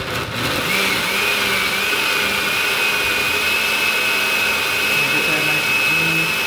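Kitchen blender running on chilies, a loud steady whirring motor drone close by for several seconds with a rising whine as it spins up, no talk over it.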